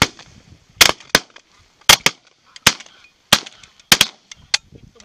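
Shotguns firing during a goose hunt in Sweden, about eight sharp, loud blasts in quick irregular bursts, close by, with faint honking of geese between the shots.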